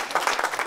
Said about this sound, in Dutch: Ik denk dat is nog wel een applaus waard.